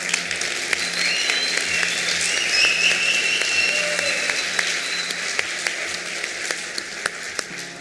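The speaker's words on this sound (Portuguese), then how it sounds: "uma salva de palmas para vocês." Applause from a seated audience at a lecture rolls on steadily for several seconds, moderately loud and even, with sharp individual claps standing out toward the end as it thins.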